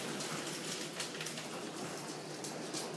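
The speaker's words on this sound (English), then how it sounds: "Legit hailstorm." Hail and rain pelt down outside during a strong windstorm in Ionia, Michigan, making a steady dense hiss with scattered sharper hits throughout. It is loud and continuous, with no voices.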